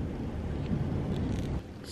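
Strong wind gusting outdoors, buffeting the microphone with a steady, loud low rumble that barely lets up for the whole stretch.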